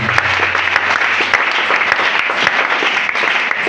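Congregation applauding during a church service, a dense steady wash of clapping that runs through the whole stretch at an even level with no voices on top.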